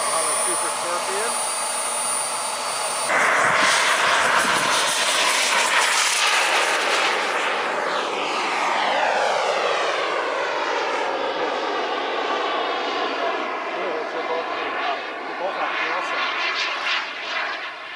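Super Scorpion XL RC jet with a Kingtech K-170F turbine in flight on its maiden outing, a loud continuous turbine whine that swells and sweeps in pitch as it passes, with people talking over it throughout.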